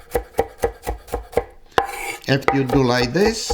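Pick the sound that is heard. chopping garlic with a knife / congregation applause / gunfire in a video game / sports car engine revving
chopping garlic with a knife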